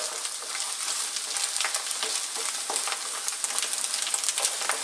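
Chicken fried rice is stirred in a hot pan with a loud, constant sizzle and crackle. Frequent scraping strokes of the utensil break through the frying noise.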